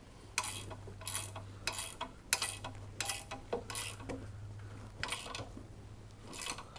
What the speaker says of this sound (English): Now you can go ahead and finish tightening this stabilizer bar bolt.